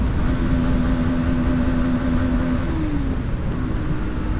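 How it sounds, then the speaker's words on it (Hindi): Motorcycle engine on a mountain ride near Bijli Mahadev, exiting a tunnel: a steady close drone with a held low tone that slides downward partway through, continuous without a break and with no talk over it. "एक बार बाइक का साउंड सुना लेंगे वह भी सुना देते हैं"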